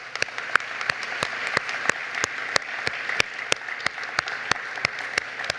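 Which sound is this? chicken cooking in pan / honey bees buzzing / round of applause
round of applause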